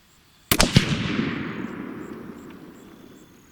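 A single sharp, loud report comes from a Savage 111 rifle in .270 Winchester firing Barnes 130-grain TSX bullets at a range. A few quick cracks follow, then a long rolling echo fades slowly.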